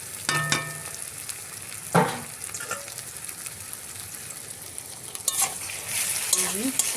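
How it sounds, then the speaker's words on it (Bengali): Garlic and tomato frying in a pan while being stirred, a steady soft sizzle with a few scraping clinks of the utensil against the pan. "রসুনটা নেড়ে নিচ্ছি।"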